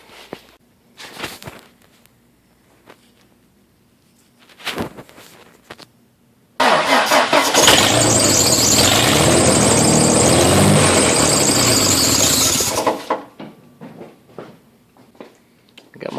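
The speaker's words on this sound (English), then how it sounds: "Got my belt on crooked, don't worry about that noise." A car engine starts after a battery relocation to the trunk and runs with a loud, steady squeal from a crooked belt for about six seconds, then cuts off, with quiet movement and handling noises before and after.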